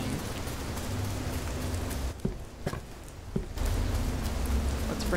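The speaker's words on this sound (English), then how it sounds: "I got drenched in the rain." Rain pours steadily in the horror video game Fears to Fathom: Ironbark Lookout, a dense hissing patter that drops away briefly in the middle, broken by a few sharp knocks, then returns at full strength.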